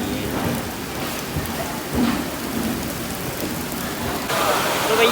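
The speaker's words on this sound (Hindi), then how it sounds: "बहुत तगड़ी बारिश शुरू हो गई है" Heavy rain pours steadily at a railway station at Har Ki Pauri, Haridwar, with low thunder rumbling beneath the dense hiss, loud and close throughout.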